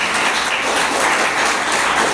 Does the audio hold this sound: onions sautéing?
no